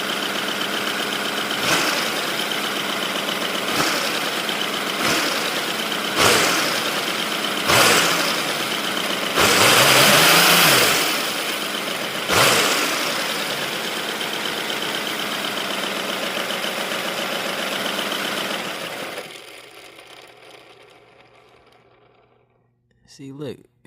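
A small 3D-printed turbocharged inline-six engine runs with a steady buzzing drone, broken by several sharp bursts and one louder surge, then winds down and stops near the end.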